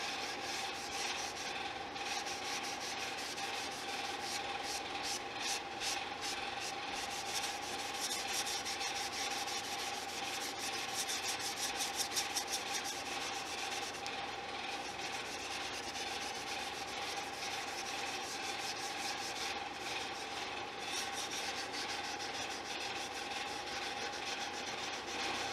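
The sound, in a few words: rubbing stained guitar body lightly with steel wool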